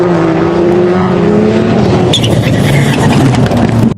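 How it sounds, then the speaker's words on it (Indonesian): A toy rally car from a children's toy collection plays a loud, steady racing engine sound effect with a revving whine that shifts pitch partway through, continuous and close, cutting off abruptly at the end. "Ini ada mobil rally."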